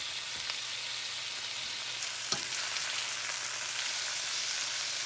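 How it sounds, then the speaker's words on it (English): Heart meat sizzles steadily in a hot pan under a Flamin' Hot Cheeto rub, a dense continuous crackle with a few small pops, close and moderately loud, no speech. "Ooh, listen to that sizzle."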